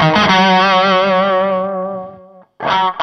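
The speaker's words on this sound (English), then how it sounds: "I put it on treble and I turn it up to here, we'll hear a very, nasally, valley sort of sound" Bright, nasal distorted electric guitar note through an EarthQuaker Devices Bows treble boost pedal, set to treble and turned up, sustains with slight wavering and fades, then a new chord is struck loudly.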